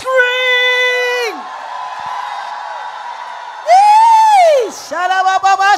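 A congregation at a women's church conference screams, whoops and cheers loudly over sustained organ or keyboard chords, with shouting voices rising and falling close by.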